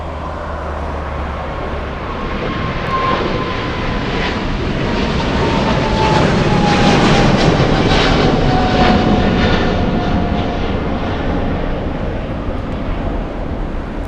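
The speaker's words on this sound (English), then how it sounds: "We have a 777. It's going to be a close-up takeoff. We have a freighter racing down the runway." A Boeing 777 freighter roars close by on its takeoff run at LAX, a loud, sustained broadband jet engine rumble and whine that swells and holds steady for the whole stretch with no talking.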